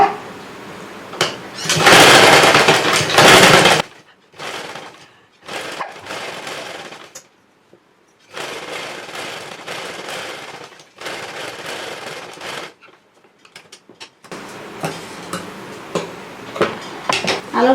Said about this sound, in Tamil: கோடு போட்டுட்டு இதை அப்படியே தையல் போடணும்.